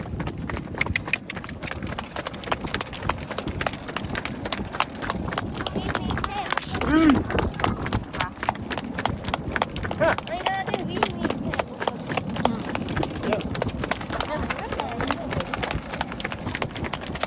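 A horse-drawn cart on a rural road, hooves clip-clopping in a steady trotting rhythm throughout, heard close and under continuous talking.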